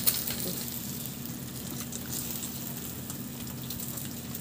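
Eggs fry in a pan for a ham and egg sandwich, giving a steady, close sizzle with fine crackling spatters and a faint low hum underneath.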